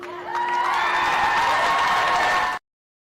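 An audience at a talk show bursts into clapping and cheering that rises quickly, holds dense and loud for a couple of seconds, then cuts off abruptly.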